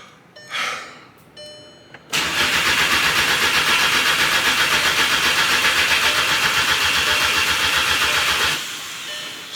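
A Volkswagen MK6 GTI engine cranks without catching: after a few faint clicks, the starter churns in a loud, rapid, steady rhythm for about six seconds, then stops.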